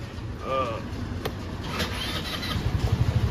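Crossfire LH200U (Linhai 200) 2022 utility vehicle with a bench seat, its engine running quietly with a low steady idle putter that grows slightly more pulsing toward the end. A voice speaks briefly over it.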